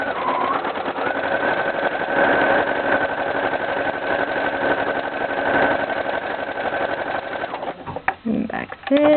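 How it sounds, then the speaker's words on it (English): A Brother sewing machine stitches a straight line while shirring, a loud, steady close-up mechanical hum with a faint whine that runs evenly for several seconds, then gives way to clicks and handling noises. "I'm going to start sewing, back stitch. Then I'm going to go forward, and I'm just going to sew in a line."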